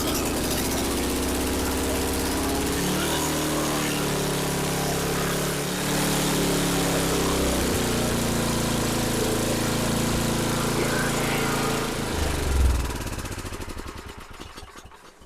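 A small MTD snowblower engine, just restored by cleaning its carburetor, runs steadily and loudly at close range at a fairly high idle, with a brief surge near the end before the sound tapers off.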